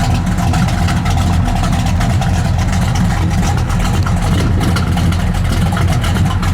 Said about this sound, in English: I love the sound of that dual exhaust.